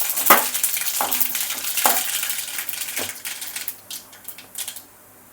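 Mustard seeds crackle, pop and sizzle in hot oil, with a few sharp spatters and clinks spaced out over a few seconds, then quieting.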